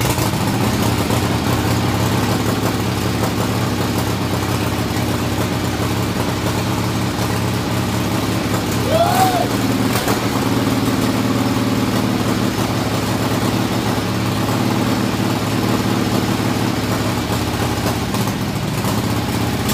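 A 1976 Harley-Davidson Ironhead Sportster motorcycle engine idles steadily and loudly at close range for the whole stretch, with a brief blip near the middle and a faint whistle-like tone over the rumble.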